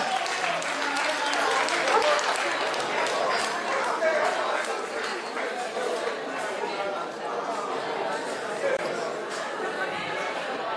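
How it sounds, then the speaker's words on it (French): Audience at a Guinean independence anniversary party in Manchester applauding a sponsor, a steady wash of clapping from a crowd with chatter running underneath throughout. "Applaudissez s'il vous plaît"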